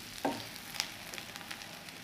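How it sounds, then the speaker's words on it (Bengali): Prawns and other ingredients frying lightly in a pan for a prawn malai curry, with a soft, low hiss of sizzling, a few faint clicks of stirring, and no voices. "এগুলো হালকা একটু বেজে নিলাম।"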